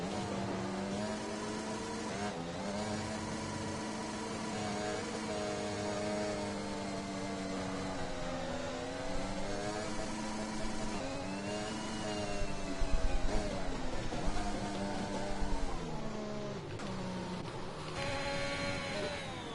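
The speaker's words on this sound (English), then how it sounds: "you can see nearly the whole grid has caught up to the safety car." Race cars in a PlayStation racing game, an F6 league round at Portugal, running behind the safety car, with layered engine tones that rise and fall, plus a brief louder surge of revving partway through.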